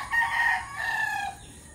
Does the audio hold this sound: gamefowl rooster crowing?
yes